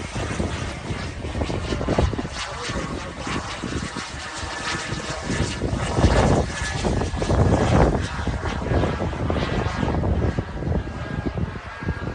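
A 2014 BDX Aero Sport model jet flies overhead at high speed, a continuous loud turbine roar and whine that swells and fades as it passes, with a faint tonal whistle throughout.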